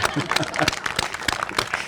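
Audience at a gym revitalization project event clapping for an executive deputy secretary, a brisk burst of many hands with sharp individual claps, with voices mixed in.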